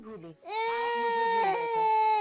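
An infant wails loudly in a tense domestic drama scene, a sustained rising cry following a brief whimper at the start, with no other voices.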